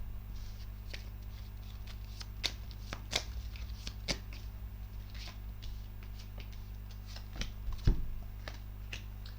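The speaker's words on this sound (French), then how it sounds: "on va voir ce que ça donne avec les trois cartes de poser" Three tarot cards laid out for a reading, heard as close, dry card slaps and shuffling rustles scattered irregularly over a constant low hum.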